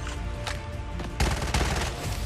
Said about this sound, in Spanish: Rayos, usa escopeta. Con un disparo me ha quitado todo el blindaje.